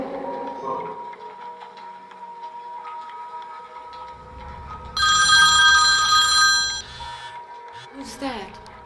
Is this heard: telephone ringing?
yes